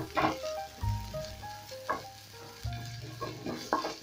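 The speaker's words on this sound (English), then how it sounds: "Then I'm going to toast this for a couple of seconds, and once the ginger is fragrant, I'll go in with my other ingredients." Ginger toasts in a hot pan for a fish in coconut sauce dish, giving a continuous close sizzle punctuated by several scraping stir strokes.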